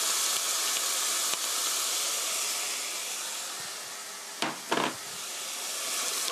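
Meat sauce being stir-fried in a pan with a splash of rice wine gives a continuous, close steaming hiss that fades a little midway. A couple of brief knocks from a utensil sound near the end.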